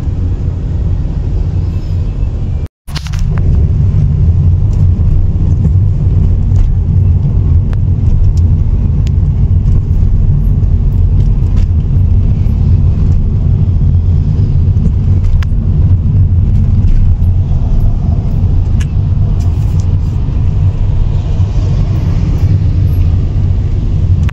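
Steady low road rumble from inside a moving car in light traffic, continuous and fairly loud, with a brief sharp dropout early on and no talking.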